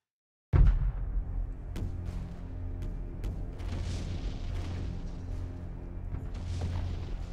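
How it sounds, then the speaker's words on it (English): A naval fleet's artillery bombardment opens with a sudden heavy boom, followed by a continuous low rumble punctuated by repeated distant blasts. "A bombardment of the largest fleet the Navy has ever assembled. A hundred shells a minute till they surrender."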